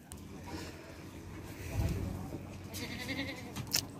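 Goats bleat on a farm where some have just given birth, a few calls rising over a low rumble of background noise and faint talk.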